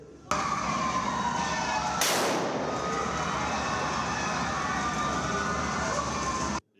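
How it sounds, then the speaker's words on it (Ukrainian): A sharp blast-like burst of broadband noise, an explosion sound simulated by instructors in police training, cuts through a steady, dense rumbling background, with continuous noise before and after. "Інструктори імітують звуки вибухів"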